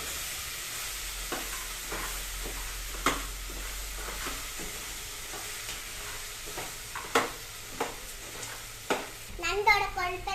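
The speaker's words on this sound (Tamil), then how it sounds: "நண்டு போட்டு அடுத்து மிக்ஸ் பண்ணிக்கலாம்." Crab pieces being stirred and fried in a pan for crab curry, with a steady low sizzle broken by repeated scraping stir strokes, a louder burst of clattering motion near the end.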